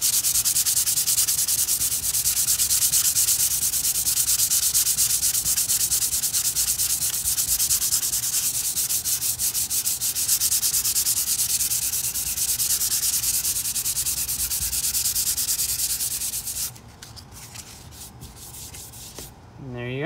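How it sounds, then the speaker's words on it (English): Fine 220-grit sandpaper rubbed by hand over a wall patch with light pressure, a steady continuous scratchy sanding close up for most of the time, stopping near the end. "Let the sandpaper do the work."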